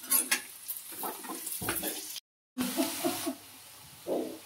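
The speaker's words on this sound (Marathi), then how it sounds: "कांदा थोडा परतला की त्यामध्ये कढीपत्ता टाकायचा." Onion sautéing with curry leaves in a pan gives an uneven sizzle with stirring scrapes and clinks, broken by a brief silent gap before the frying picks up again, with no talking.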